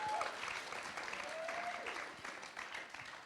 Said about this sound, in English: one more time, show a round of applause.